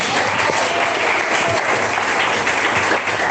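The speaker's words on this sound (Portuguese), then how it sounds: "Quem bate mais palmas?" A church congregation claps in a continuous, dense burst of applause that stays loud and even throughout, with scattered crowd voices mixed in.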